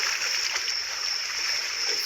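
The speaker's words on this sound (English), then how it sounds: "She dove into the river," A fox dives into a river at Tower Falls, giving a steady, close rush of splashing and churning water that fills the whole moment without pause.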